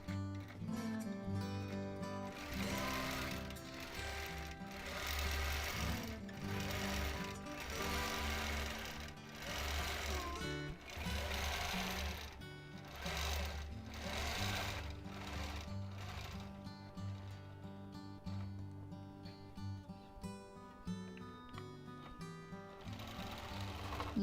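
A sewing machine runs in bursts while free motion quilting a custom quilt, its rapid rhythmic needle chatter close and steady, speeding and pausing, with no talking.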